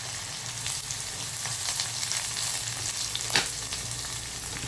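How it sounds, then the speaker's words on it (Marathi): Chopped small onion dropped into hot oil with garlic already fried golden, giving a steady close sizzle with light stirring scrapes and one sharp clink partway through. "सोनेरी कलर आलेला आहे, आपण याच्यात कांदा टाकून देऊया"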